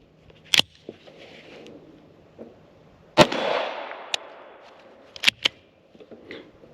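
Several sharp gunshots from an FN 502 .22 pistol ring out at a range, spaced irregularly, with one louder crack followed by a lingering echo and fainter pops near the end.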